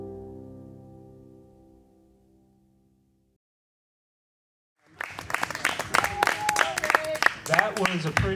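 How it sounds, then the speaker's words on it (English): A modest round of applause and clapping from an engagement party crowd, breaking out after fading music and a brief silence, with cheers mixed in. "That was a pretty crappy round of applause."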